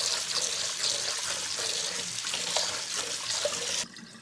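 Rice being rinsed under a running tap in a sink, a steady close rush of flowing water with splashing that continues for about four seconds and then cuts off near the end, with no talking.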